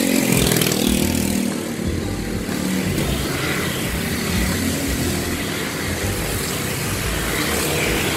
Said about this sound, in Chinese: 结果摩托车蛮多的